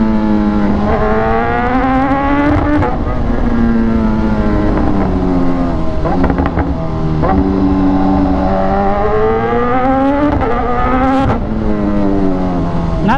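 A remapped BMW S1000R motorcycle with a full-system exhaust revs loudly and close, its engine note rising and dropping in repeated sweeps with sharp pops between them, with no talk over it.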